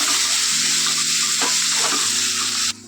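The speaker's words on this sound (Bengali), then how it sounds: "পেঁয়াজ কুচিটাকে একটু লাল লাল করে ভেজে নেবো" Chopped onions frying in leftover fish-frying oil give a steady, loud, close sizzle with faint stirring scrapes; the sizzle runs unbroken and then drops off abruptly at the very end.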